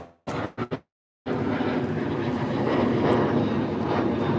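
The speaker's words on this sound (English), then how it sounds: "You hear that? That's like an airplane." A propeller airplane passes overhead above a backyard pool area, heard as a steady broadband roar that swells and holds after a few brief knocks and a short silence.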